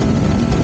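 A motorcycle engine drones loudly and steadily while being ridden along an empty road, caught in a brief, close burst.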